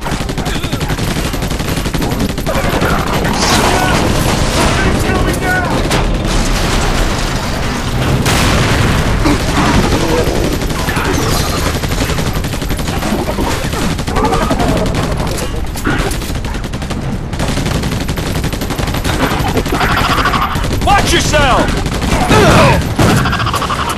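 Dense gunfire from the Battle Los Angeles video game: sustained machine-gun bursts and booming explosions run loud and continuous throughout, with shouted voices mixed into the combat.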